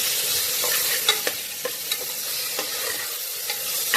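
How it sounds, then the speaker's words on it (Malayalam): Ground masala paste for plain biryani sautés in a hot pan, giving a bright, continuous hiss with light, irregular spatula taps as it is stirred. "അരച്ച് വെച്ചിട്ടുള്ള ആ ഒരു പേസ്റ്റ് മൊത്തത്തിൽ അതിലേക്ക് അങ്ങോട്ട് ഇടും. എന്നിട്ട് അത് വഴറ്റിയെടുക്കും."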